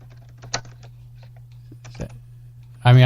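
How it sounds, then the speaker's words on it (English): Sparse clicks of typing on a computer keyboard come through a call over a steady low hum, then a loud voice abruptly starts talking at the end. "I hear you typing, Rob"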